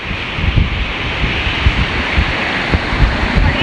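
Steady wind roars across the microphone at a river dike after Typhoon Kristine, a broad rushing noise with gusty buffeting thumps, continuous and close, with no voices.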